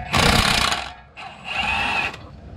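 Power tool, likely an impact gun, spinning off 18 mm brake caliper bolts on a 2007-2014 Chevy Silverado 1500. Two loud, sustained whirring bursts come close up with a short gap between them, and no talk.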